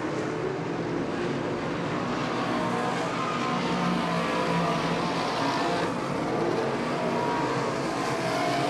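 Race cars run on a circuit during a motor race, with a steady, continuous engine roar and road noise holding at an even loudness throughout, no individual pass standing out.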